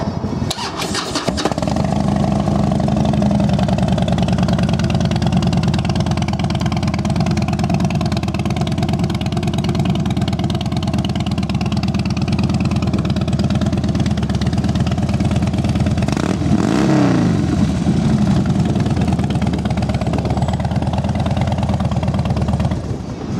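A Harley-Davidson Dyna Wide Glide FXDWG with a 96-inch motor and Vance & Hines exhausts fires up and settles into a loud, steady, rumbling idle close by, with a brief blip partway through.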